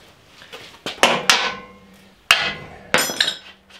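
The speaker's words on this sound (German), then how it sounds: "Hämmerchen." Small hammer striking metal parts while a Toro Greensmaster 3250 D mower is being taken apart to remove its steering gear, a handful of sharp ringing blows at irregular intervals, close and loud, with no talking.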